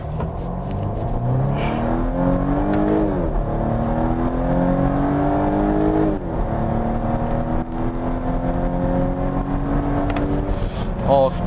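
A Volvo V60 Cross Country B5 pulls away hard from a standstill, its engine note climbing steadily through several rising gear sweeps, loud and close, with an engine-and-road drone throughout.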